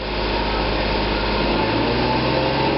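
A Lexus IS300 engine held at a steady rev of about 3,000 RPM, a continuous loud whirring drone with an even pitch throughout, close by and with no talk.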